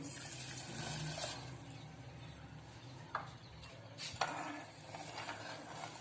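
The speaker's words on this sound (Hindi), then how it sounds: "उसकी आधी कटोरी हम पानी लेंगे।" Water poured into a bowl of sugar to make syrup for balushahi, a steady soft splashing wash with a couple of brief louder splashes, alone and close.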